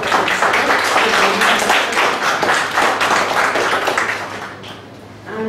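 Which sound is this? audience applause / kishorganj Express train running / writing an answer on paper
audience applause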